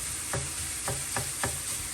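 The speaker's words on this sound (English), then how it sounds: "we're still frying this stuff. It's popping and cracking." Sausage-style meat fries in a pan for biscuits and gravy, giving a constant sizzle while a wooden spoon scrapes and stirs in four distinct, evenly spaced strokes.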